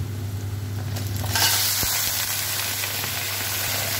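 Chicken frying in a pan with browned onions for a methi chicken curry, a loud, steady, close sizzle that swells in hiss partway through, with a couple of brief clanks and no talking.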